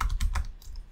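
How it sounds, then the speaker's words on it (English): A few quick, close keystrokes clatter on a computer keyboard as a terminal command is typed, three or four crisp taps in under a second before going quiet. "So let's open our terminal and then type"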